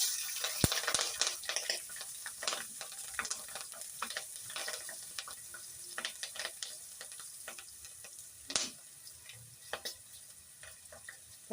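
Mustard seeds, turmeric and chopped green chilies fry in hot oil in a home kitchen. Sparse, scattered pops and crackles stand out over a faint, steady sizzle.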